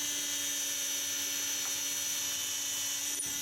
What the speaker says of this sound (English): now I'm removing the waste with a 3mm drill